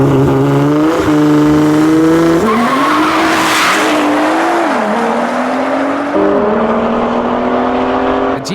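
A Nissan GTR and an Audi RS3 drag race on an unprepped 400-metre strip, loud engines roaring and revving with rising and falling gear-change tones and tyre squeal, sustained and close throughout.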